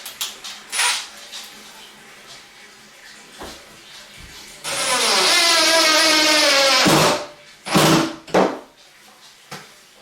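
A power drill drives 1.5 inch drywall screws into a shower pan frame, one loud sustained whir of a couple of seconds with a falling pitch, followed by a shorter burst. Clicks and knocks come before and after.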